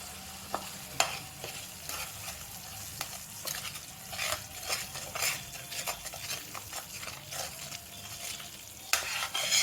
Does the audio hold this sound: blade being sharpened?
no